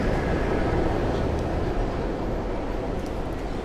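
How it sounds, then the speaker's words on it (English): A New York City subway train in Greenwich Village, a steady loud rumble and roar of wheels on rails that holds at the same level throughout, with a few faint squeals on top and no talk. "Now, you hear the subway."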